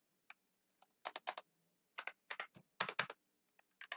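Typing on a computer keyboard in a quiet room, with close, crisp key clicks arriving in irregular bursts and small clusters separated by short pauses.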